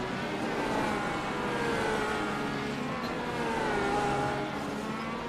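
IndyCar engine in iRacing at Long Beach, a steady high-pitched race engine drone with shifting harmonic pitch as the car winds through a street-circuit sector, continuous and fairly close with no talk.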